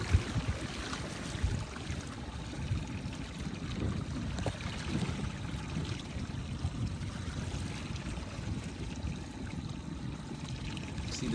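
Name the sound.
choppy water around Laser sailing dinghies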